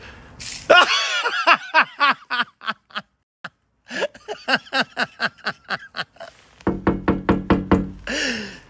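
Knuckles rap on a door in several quick bursts of sharp knocks, loud and close, with short pauses between, and a bit of laughter near the end.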